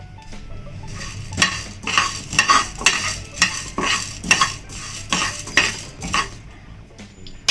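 Cumin and fenugreek seeds roast in a pan while a utensil scrapes and clinks against the metal in a steady rhythm of repeated strokes, with a faint sizzle underneath and no talking.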